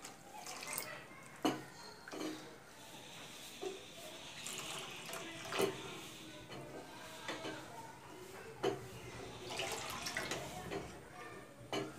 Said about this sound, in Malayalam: കുറച്ച് പാലിതിൽ ഒഴിച്ചു കൊടുക്കാം